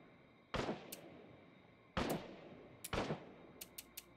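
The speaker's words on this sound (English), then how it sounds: "Are they shooting outside?" Gunfire outside in State of Decay 2: a few sharp, distant-sounding shots spaced a second or so apart, followed by a quick run of smaller pops, all fairly faint.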